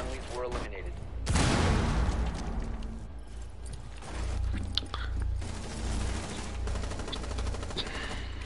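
Gunfire in the tactical shooter game Rainbow Six: a sharp loud blast early on, then scattered shots and impacts through a dense, busy game mix, with voices talking over it.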